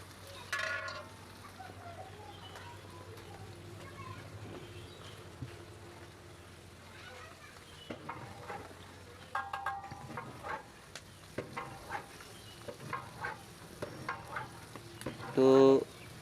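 Muri ghonto, a fish-head and rice dish with turmeric, is stirred in a frying pan as a faint, steady sizzle runs under scattered scraping, with a louder clatter of the utensil near the end.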